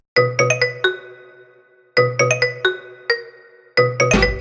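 A melodic electronic phone ringtone plays a quick run of bright chiming notes, pauses, and repeats twice, loud and close, with no one speaking.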